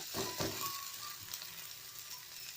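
Onions fry in a pan as a steady, moderate sizzle, with a couple of soft stirring scrapes near the start and no talking.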